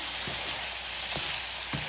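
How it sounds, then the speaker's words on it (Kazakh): Meat for a Thai-style dish sizzles steadily in a hot pan, a close, constant hiss and crackle with a few soft stirring bumps and no talking. "Енді жақсылап қуырамыз бұны."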